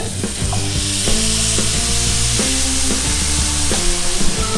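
A steady loud sizzle as canned tomatoes go into a hot curry pot with sweet potato, continuous frying and bubbling with light stirring clicks.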